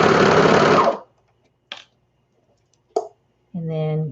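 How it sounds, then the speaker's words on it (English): Serger sewing machine stitching and trimming fabric for baby bummies runs loudly for about a second, then stops. A few sharp clicks follow, and a voice begins speaking at the end. "Your serger's going to cut it off."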